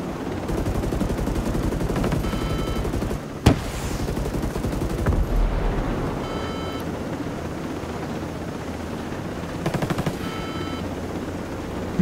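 Rapid automatic gunfire from the video game Ghost Recon Breakpoint, with sustained bursts running through the clip and a sharp loud shot near the middle, over a dense battle backdrop.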